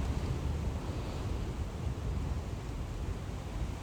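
Strong wind blows outdoors, buffeting the microphone with a steady, loud low rumble and broadband roar that holds throughout with no speech.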